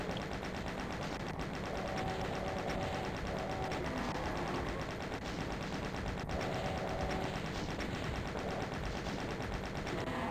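Rapid machine-gun fire rattles steadily in the video game Doom 2, dense and continuous over a busy layer of game noise, with no pauses.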